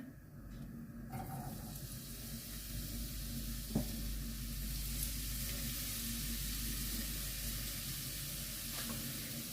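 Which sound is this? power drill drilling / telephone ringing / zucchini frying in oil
zucchini frying in oil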